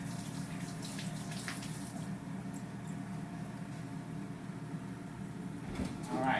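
Kitchen tap water runs for a quick rinse, a faint, steady stream of splashing water in a home kitchen with a few small clinks, ending in a slightly louder gush.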